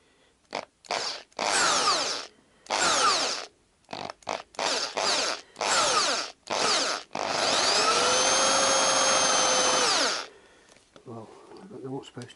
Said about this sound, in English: Put the drill on reverse and hopefully that's the right thing to do.